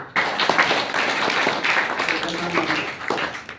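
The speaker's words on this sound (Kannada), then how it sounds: "ಅವ್ರಿಗೆ ಒಂದು ಚಪ್ಪಾಳೆ ಹೊಡಿ" Audience at a school literary gathering clapping for a singer, a dense steady patter of many hands lasting the whole moment, fairly close and loud, with some voices murmuring underneath.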